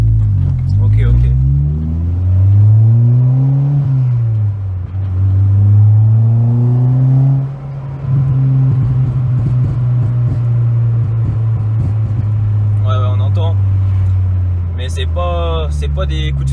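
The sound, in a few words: Peugeot 206 RC exhaust pops and bangs on deceleration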